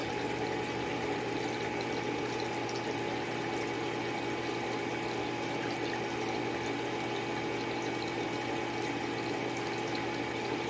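Water steadily refills a pressure sensor flow test setup, a continuous faint rushing and hiss with a low pump-like hum that holds unchanged throughout, with no talking.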